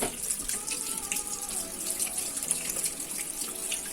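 Warm tap water runs steadily into a sink for washing the face, a continuous close splashing rush with no voices.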